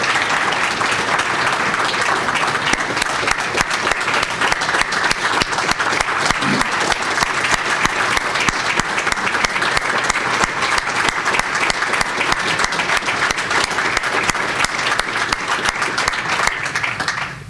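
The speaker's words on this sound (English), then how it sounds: "I figured out a cheap way of getting Carrie 2 rounds of applause" Sustained applause from an audience at a Scouting annual meeting, a dense, steady wash of clapping that holds for the whole stretch and then ends abruptly.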